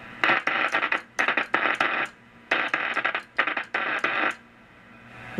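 A simulated rotary spark gap transmitter set to 200 Hz sends bursts of harsh, buzzing tone. They come in short keyed pulses of uneven length, like Morse code, at moderate level with no talking.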